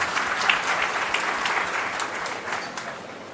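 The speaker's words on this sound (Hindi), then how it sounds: "तालियों से अभिनंदन करें, स्वागत करें" An audience claps steadily to welcome a presenter at a government event, a dense, even applause that fades slightly toward the end, with little else heard.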